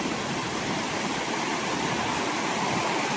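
River water rushes past as someone walks upstream among giant trees, a dense, constant broadband roar up close with no pause and no voices.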